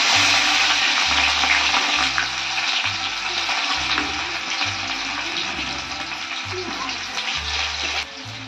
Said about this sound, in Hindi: अब मैं इसमें डालूंगी प्याज कटा हुआ